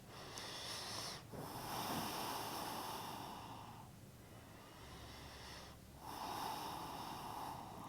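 Slow, deep breaths from a yoga practitioner holding a forward fold in a vinyasa flow. Two long, soft, airy exhales are separated by a quiet pause, faint and close.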